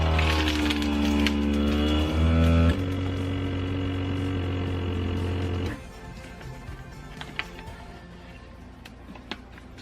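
A steady mechanical drone of a small vacuum sealer pump runs loud, shifts pitch twice, then cuts off, leaving quiet clicks and handling noises.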